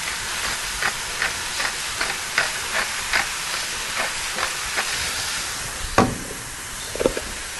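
Smash burger patties sear on a hot griddle with a steady broadband sizzle, punctuated by regular soft scraping or pressing taps, plus a sharper clatter near the end.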